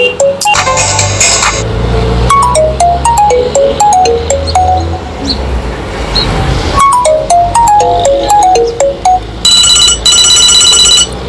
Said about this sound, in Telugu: ఇది నోకియా టోన్ వచ్చేసి